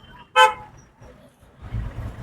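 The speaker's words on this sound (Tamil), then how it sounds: "விட்டுட்டு இந்த வண்டியை கிராஸ் பண்ணி ஹார்ன் அடிங்க ஒரு முறை." A single short car horn toot sounds from a learner's car during a driving lesson, followed by low engine and road rumble.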